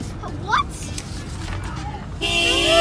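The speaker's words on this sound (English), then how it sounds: "Why isn't she honking? Like majorly honk a lot." Car horns honk at a drive-by birthday celebration, with short toots early on and then a sustained loud blare near the end, heard over voices and chatter from people nearby.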